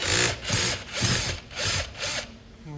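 Power drill backing a screw out of a Lexus GS 450h door panel, four loud whirring bursts with short pauses between them, close up and without talk.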